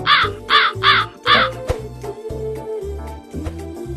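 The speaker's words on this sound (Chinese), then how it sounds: "后期多一台乌鸦就可以了。" Crow cawing added as a post-production effect, a series of loud, harsh caws in quick bursts, close and clear, with a few more calls following over a low background.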